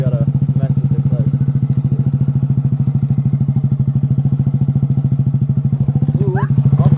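Motorcycle engine idling and revving steadily at close range in a continuous pulsing drone as a beginner learns to work the clutch, with a voice speaking briefly over it near the end.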